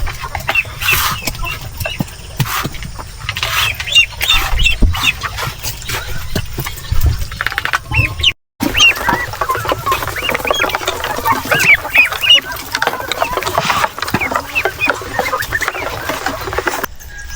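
Backyard chickens cluck and rustle around just after being fed, a busy close flock with scattered calls and scratching over a steady low engine-like hum, briefly cut off midway, with no talking.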